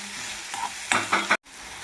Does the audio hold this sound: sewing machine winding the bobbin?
no